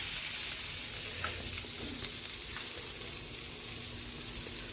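Butter sizzles in a pan for sautéing vegetables, a steady, close hiss with light crackles and occasional stirring, no voices.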